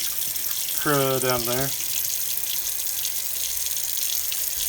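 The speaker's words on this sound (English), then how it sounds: "Get a little water in there. Shake it up." Water runs steadily from a tap into antique glass bottles as they are rinsed and shaken, a continuous hiss with a brief voice speaking over it near the start.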